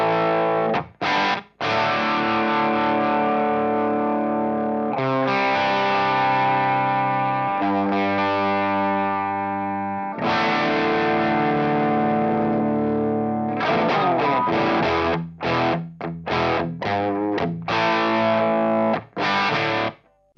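Electric guitar through a Blackstar Series One Mk II 100W amp with the gain turned all the way up, playing heavily distorted sustained chords and choppy riffs with abrupt stops, loud and close, no talking.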